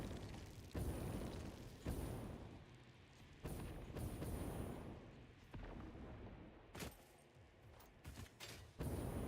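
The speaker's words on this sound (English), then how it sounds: "I love hearing, like, plasma and fireball explosions going off all around me while I'm, you know, trying to run for my life." Plasma and fireball explosions from the Satisfactory video game boom repeatedly through the stretch, sharp blasts landing at irregular intervals over a continuous low rumbling roar, with no talking.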